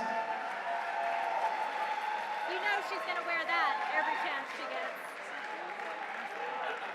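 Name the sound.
audience applause for climbing competition winners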